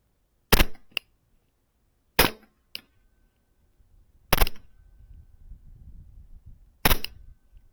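Airsoft Glock 17 pistol powered by CO2, fired in four separate sharp cracks spaced a couple of seconds apart, each followed by a faint tick, close and clear with no talk.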